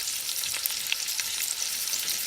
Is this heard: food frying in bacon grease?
yes